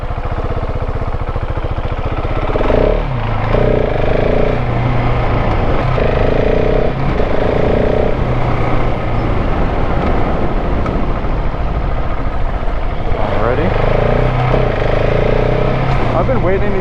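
A 2026 KTM 690 SMCR single-cylinder motorcycle is ridden hard with the rear wheel sliding; a steady, loud engine drone rises and falls through repeated throttle surges over constant wind rush.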